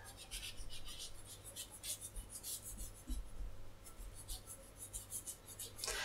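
An eraser scrubs back and forth on thin paper in a soft, fast, irregular run of rasping strokes, close and quiet, with a low hum underneath.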